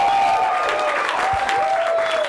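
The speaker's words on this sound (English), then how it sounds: "Please give a warm welcome for Nick Panayotopolous." A comedy club audience applauds as a comedian is welcomed to the stage, a steady wash of loud clapping that continues throughout.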